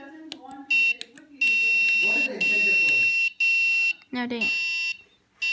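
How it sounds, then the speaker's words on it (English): A passcode alarm clock's loud electronic alarm blares in long, repeated high-pitched beeping bursts with brief gaps, while people talk briefly between and under the sound. "you can see the alarm clearly keeps going."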